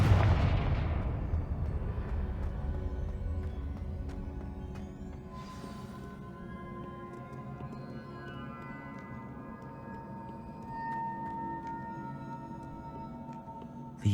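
Confringo fire spell blasts in the video game Hogwarts Legacy: a heavy booming explosion at the start decays into a long rumbling tail, with scattered crackles and a later swell of combat noise, no talk.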